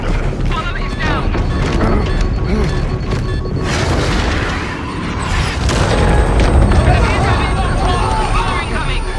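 Explosions and incoming fire in the video game 007 First Light, heavy booms and crashes rolling continuously under shouting voices and radio chatter, loud and dense throughout.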